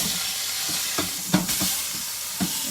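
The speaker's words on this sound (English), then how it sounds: "Ooh, you can hear that sizzle." Pot roast meat sizzling steadily in avocado oil in a hot pan, a constant hiss with a few soft clicks and taps of tongs, close up and with no talking.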